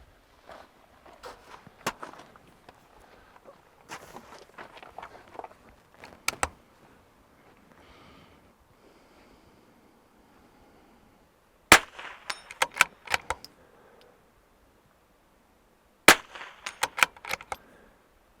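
Rifle shots crack during an outdoor shooting training drill. They come as sharp, separate reports in two quick clusters, with quieter movement and handling noises in between and little talk.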